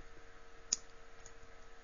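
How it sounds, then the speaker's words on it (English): A single Q key is pressed on a computer keyboard, a short, crisp click over a quiet background hum. "If I press, say, the Q key"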